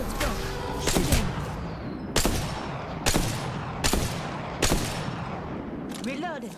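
Apex Legends gunfire: several sharp bursts of weapon shots spaced about a second apart, loud and close, with background game noise between them.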